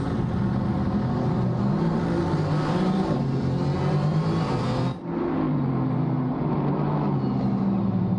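Race cars in a GT4 racing video game roll off the starting grid at Circuit of the Americas, a steady layered engine drone of many cars at moderate volume, with a brief dip midway before the rumble resumes.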